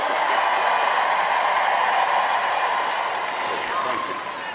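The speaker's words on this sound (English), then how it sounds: "Cheer, go on, cheer." Awards-ceremony audience cheering and applauding, a dense, steady wash of clapping and crowd noise that fades slightly toward the end.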